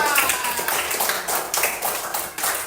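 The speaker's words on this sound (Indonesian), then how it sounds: "Tepuk tangan untuk kalian semua" Pupils in a classroom clap for one another, a loud, dense patter of hands lasting the whole stretch with little talk.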